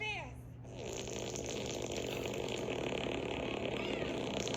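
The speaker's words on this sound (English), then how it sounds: "the fart joke they do" A cartoonish fart effect from the animated film Robots starts with squeaky falling tones, then swells into a long, loud, rumbling blast that fills the scene, with a voice talking over it.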